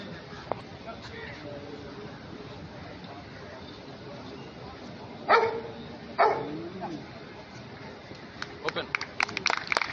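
Police detection dogs perform in a demonstration before officials, giving a couple of sharp, distinct barks midway and a few fainter yips near the end, set under steady narration.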